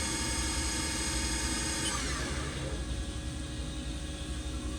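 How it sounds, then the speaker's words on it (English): A 2008 HAAS GT-10 CNC lathe turning center spins at 2,500 RPM, giving off a steady close mechanical whine with layered high tones that shift slightly midway, over a constant low hum. "the preceding video is a HAAS GT-10 CNC lathe"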